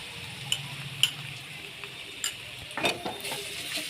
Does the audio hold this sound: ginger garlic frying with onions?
yes